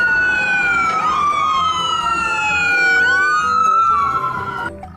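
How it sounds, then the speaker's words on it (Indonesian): A loud wailing ambulance siren sweeps up and down continuously, close by, with traffic rumble underneath. "Wah, kita lanjutkan mendapatkan ambulan teman-teman."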